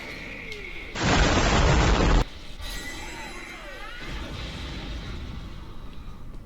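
A single loud blast bursts out in the fighting game JoJo's Bizarre Adventure: All Star Battle R, lasting about a second over a continuous backdrop of game music and effects.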